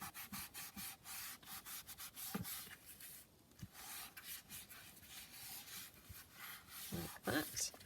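A wipe rubbed all around the edges of a specimen slide to clamp its layers together, heard as a steady run of soft, rapid rubbing and scraping strokes up close, with no talk.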